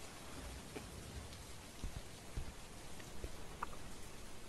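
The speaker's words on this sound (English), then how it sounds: "It's raining." Steady video game rainfall with occasional louder drops, heard alone at a constant moderate level with no voices.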